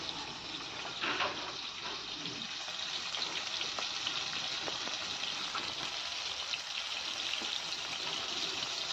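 Fish pieces lightly frying in a pan for Andhra-style fish pulusu give a steady, close sizzle with a faint crackle and occasional soft spatters throughout, no talk.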